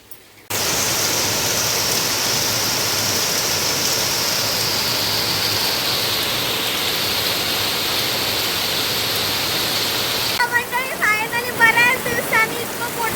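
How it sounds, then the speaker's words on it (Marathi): Heavy rain in the Konkan pours in a dense, steady roar that starts abruptly and continues, with speech rising near the end. "कालपासून पाऊस चालू झालेला असा आणि आज संक्रांती परत जोर मारलेला"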